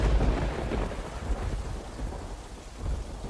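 Heavy rain pours steadily with deep rolling thunder rumbling through it, loud and close, with no voices.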